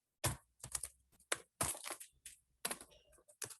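Clustered bursts of keystrokes typed on a computer keyboard, close and crisp with short pauses between runs, no voice.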